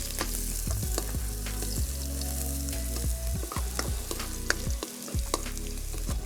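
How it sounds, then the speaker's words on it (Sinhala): Ginger and garlic frying in hot coconut oil, a steady loud sizzle with scraping stir strokes and clinks of a spoon against the pan, close up and without any voices. "ඉඟුරු සුදු ලුණු හොඳට බැදිලා හොඳ සුවඳක් එනකොට"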